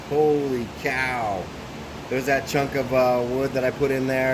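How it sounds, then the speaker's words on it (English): A fan runs steadily in a woodturning workshop while a hot-glued root ball bowl is worked, its broadband whir sitting under a man's close, excited talk throughout. "Sorry about the fan noises there."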